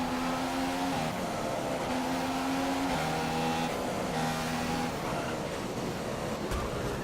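A McLaren Formula 1 car in the racing game F1 2015 accelerates out of a corner, its high, buzzing engine note climbing in pitch through repeated gear changes, loud and constant with no voices.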